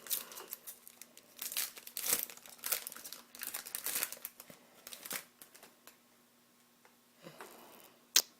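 A pack of trading cards is torn open and handled, with close crinkling foil wrapper noises in irregular bursts, then quieter shuffling and a final sharp tick.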